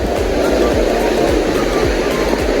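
A river rushing over large boulders along a jungle trail near the Coban Kabut Pelangi waterfall in Pronojiwo, Lumajang, a loud, steady roar of churning water filling the whole stretch.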